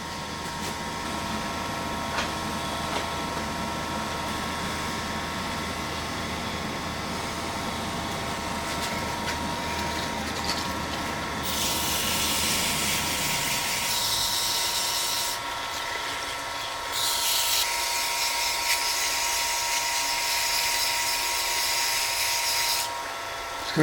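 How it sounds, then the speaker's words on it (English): A pen blank is sanded smooth on a lathe, a steady whirring hum of the spinning work with a brighter, hissing abrasive rasp rising in the second half in long continuous stretches. "I've got to sand that smooth."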